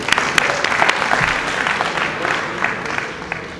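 Audience applause at a student political rally for a national coordinator, brisk clapping from a crowd with a few sharper claps standing out, lasting a few seconds.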